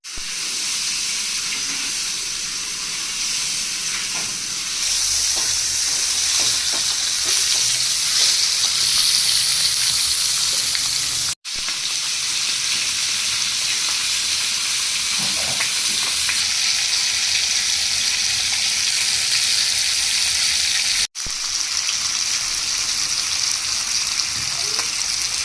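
Large tilapia pieces fry in a pan with a loud, continuous crackling sizzle and hiss, broken by occasional stirring clatter and two sudden cuts, while a faint voice is heard now and then.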